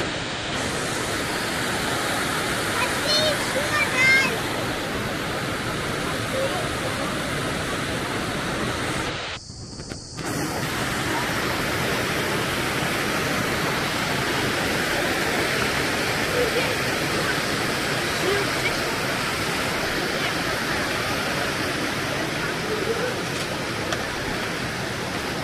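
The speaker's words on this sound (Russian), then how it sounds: "Ну вот, дошли мы до водопада" A waterfall in the Ayusay gorge roars as a steady, dense rush of falling water, loud and continuous with a brief dip partway through.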